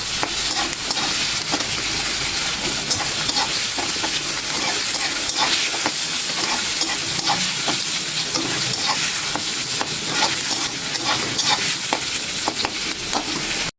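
Onions and garlic sizzle in a hot pan, producing a loud, constant hiss and crackle while a spoon scrapes and stirs through them in repeated strokes.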